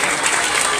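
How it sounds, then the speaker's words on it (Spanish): Sustained applause from a school audience in Tumbes fills the moment, dense and steady clapping throughout with no pauses. "para quienes les pido un fuerte aplauso"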